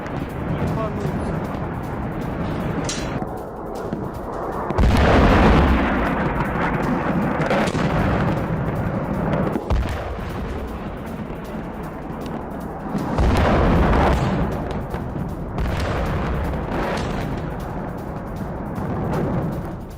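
Heavy booms from Russian artillery and missile strikes on Kyiv, Ukraine, roll out one after another with a rumbling, distant quality. Two louder blasts swell above the background, and a voice talks over the sound.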